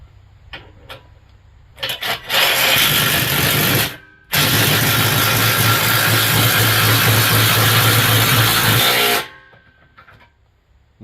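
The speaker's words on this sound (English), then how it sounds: "I'm gonna tighten it up and drive it all the way down." A power tool, an impact wrench on a half-inch drive socket from a 65-piece impact set, runs down a nut on a vehicle wheel in two loud sustained bursts, a brief one then a long run of about five seconds, alone without talk.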